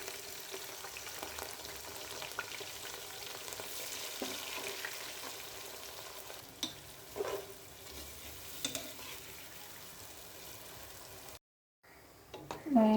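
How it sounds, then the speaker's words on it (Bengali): Onions fry in hot oil for chicken kacchi biryani, giving a steady, close sizzle with occasional stirring scrapes that keeps up throughout, then drops out briefly near the end before returning with a louder clatter. "তেল দিয়ে দিলাম, পেঁয়াজগুলো বেরেস্তা করে নেব।"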